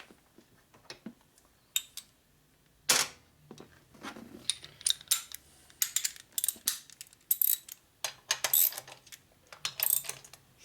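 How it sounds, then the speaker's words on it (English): A ratchet tightens bolts on a 1992 Harley-Davidson 80ci Evolution engine during a rebuild, giving irregular runs of sharp, close metallic clicks with brief pauses between strokes. "got the bolts nice and tight"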